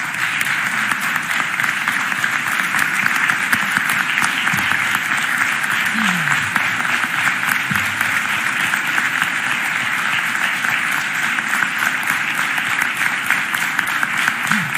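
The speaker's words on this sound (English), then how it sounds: "so we can give you a round of applause" An audience at the Philadelphia mayor's budget address gives a long, loud, sustained ovation of dense clapping for a family asked to rise, steady and undiminished throughout, with a few voices faintly underneath.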